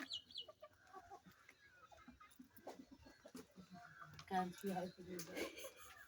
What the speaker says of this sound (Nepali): अनि कुखुराहरू